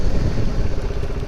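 Peugeot XP 400 scooter engine, the 400 unit shared with the Metropolis, running with a low steady rumble and some wind buffeting, heard close and alone for about a second.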